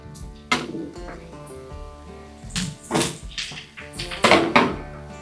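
Cabbage and bacon are mixed in a pan with a scattering of irregular scrapes, clanks and shuffling thuds as a utensil works the food, close and moderately loud, with no speech.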